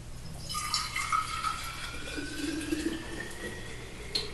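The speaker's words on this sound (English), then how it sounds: "I'm going to pour the kefir into the jar." Water kefir pours from a container into a jar, a quiet trickling fill with a faint rising tone and a few small clinks of glass, fairly close and without talk.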